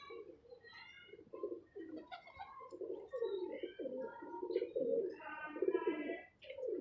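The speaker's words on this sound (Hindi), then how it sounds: "तो ये कबूतर बड़े वफादार हैं दोस्तों, बड़े ही मज़ेदार हैं" Pigeons coo in soft, repeated throaty phrases close by, with a few faint chirps mixed in and no talking.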